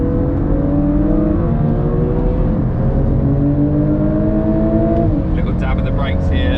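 A Volkswagen Golf R Mk8 pulls hard out of a corner on a race track, its engine note climbing steadily and loud, with wind and tyre roar underneath and brief higher whines near the end.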